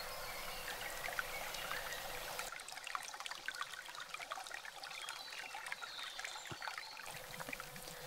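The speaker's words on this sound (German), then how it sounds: "Wasser." A small stream trickles and drips softly over stones and branches in a forest. The gurgling is faint and continuous and is heard alone with no voices.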